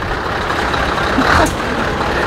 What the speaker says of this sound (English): I think that's the R580 pulling around.